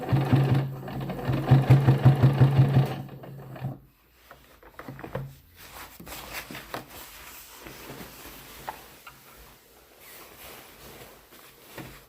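A sewing machine stitches a Costco down underquilt in a quick, steady run of needle strokes for about three seconds, then stops, followed by quieter handling and rustling of the fabric.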